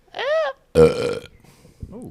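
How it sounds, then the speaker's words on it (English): A loud, close burp rumbles for about half a second during a podcast recording, with brief vocal sounds just before and after it. "That's the second burp."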